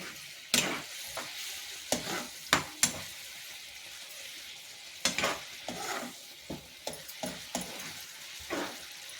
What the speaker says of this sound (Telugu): దీంట్లోనే కొంచెం ఇంగు వేసి బాగా దగ్గర పడే వరకు వేయించాలి